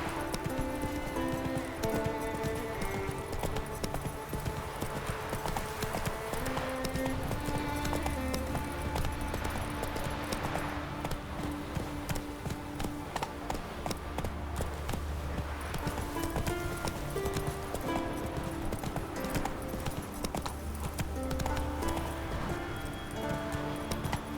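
Roach the horse gallops steadily in The Witcher 3, hooves clip-clopping in a continuous rhythm throughout, with a game music score playing underneath.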